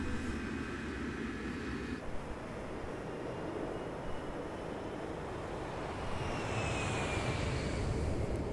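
A fixed-wing airplane engine at an airport in Grand Theft Auto V drones as a steady, broad roar, swelling slightly toward the end with a faint high whine, and nobody speaks.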